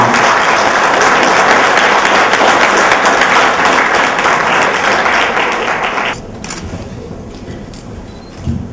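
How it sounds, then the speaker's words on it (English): A room full of people at a Skal International Pattaya club event applauding loudly and steadily, the clapping thinning out to a few scattered claps toward the end. "A round of applause to Tony for taking the mantle."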